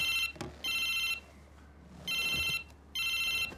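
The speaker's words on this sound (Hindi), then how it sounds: "पहले फोन तो उठाने दे" A mobile phone ringtone plays in three short electronic bursts separated by pauses, fairly quiet against soft background noise.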